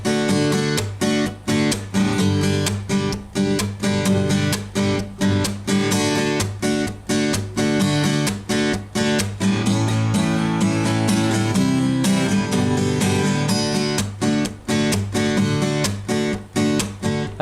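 Guitar plays the verse of a song in a steady, driving strummed rhythm with dense repeated chord hits, loud and continuous, with no voices.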